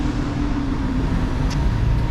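A compact Enviro 200 single-deck bus idles and moves through Reading town centre, a steady low engine drone with passing traffic and a brief high squeal near the end.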